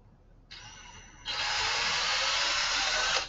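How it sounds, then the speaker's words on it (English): Handheld power drill boring through a part held in midair: a steady high whine that starts, then jumps louder as the bit bites in and runs continuously for about two seconds before stopping, with no talk. "So I tried to drill right into the middle, but it actually wandered a little bit and drilled to the bottom here."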